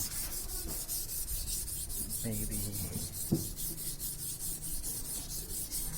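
Steady rhythmic hand sanding of an aluminum motorcycle grab bar with 400-grit paper, rasping back and forth in even strokes close up, with a brief spoken word.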